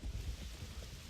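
Steady rain with low rumbling thunder in the online game Black Desert Online, a continuous dense wash of rainfall with rolling low-end rumble throughout, no talk over it.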